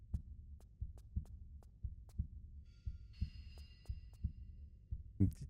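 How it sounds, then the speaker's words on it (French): A heartbeat ambience plays in Tomb Raider III's high-security area: low, regular double thumps repeat steadily under a soft hum, and a brief high electronic tone rises midway. "Une petite ambiance battement de cœur"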